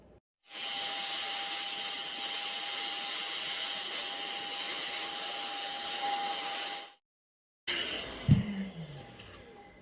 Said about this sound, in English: so got this little handy C-Vast blower.